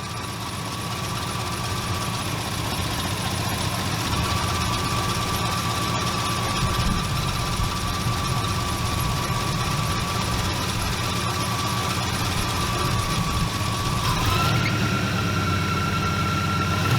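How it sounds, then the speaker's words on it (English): A diesel engine runs steadily at a close, rough idle during a Gambler 500 off-road event in Alabama. The hum shifts to a slightly different pitch near the end, with no talk over it. "still sounds like a diesel"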